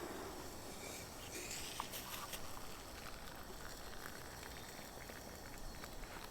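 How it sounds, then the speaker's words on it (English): Water in a kettle on a Trangia camping stove bubbles and seethes at a gentle boil, a soft continuous hiss with faint crackles and no voices. "So it doesn't take long at all to get the kettle boiling."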